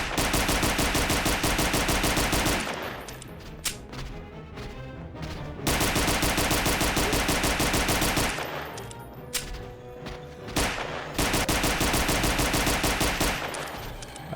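Gunfire rattles in Resident Evil 2: Source, a Half-Life 2 mod, with loud sustained automatic bursts that stop for a few seconds of quieter sound and then resume.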